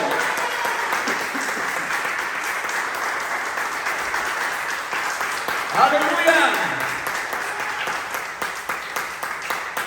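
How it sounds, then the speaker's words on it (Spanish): Church congregation applause during an Easter service, continuous clapping with a voice briefly shouting over it partway through. "¿Cuánto le dan un aplauso a Él?"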